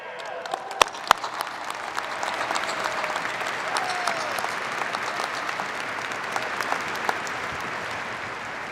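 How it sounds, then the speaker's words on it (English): A large crowd at a university commencement ceremony applauds at length, broad steady clapping heard from a distance in a big hall, with a few sharp close claps standing out early on. "can you stand up so we can give you an extra round of applause?"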